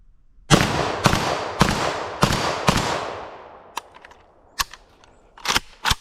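PSA AK-74 rifle firing its last five rounds at steel plates outdoors, with five loud, evenly spaced shots at roughly half-second gaps, followed by fainter sharp clicks and pops.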